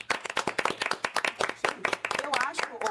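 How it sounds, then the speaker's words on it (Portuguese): A studio audience on a Brazilian talk show claps in quick, crisp bursts, loud and close, with a voice coming in near the end. "Palmas a Jojo Todinho, gente."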